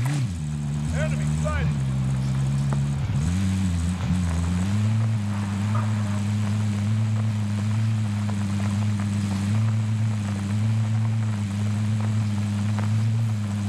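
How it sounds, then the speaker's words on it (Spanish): Helicopter rotor drone in a Call of Duty Cold War match, a loud steady low throb holding throughout, briefly wavering early on, with faint game sounds scattered above it. "viene en helicóptero"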